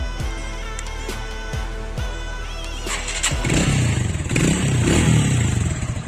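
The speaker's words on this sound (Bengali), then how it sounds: "গাড়িটা এবার স্টার্ট দিয়ে দেখবো আমরা" A TVS Radeon 110cc motorcycle, a second-hand bike, cranks with several sharp starter clacks before the engine catches and settles into a steady, close, fairly loud running note with light rattling.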